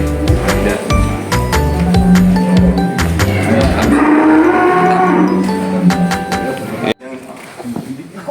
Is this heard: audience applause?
no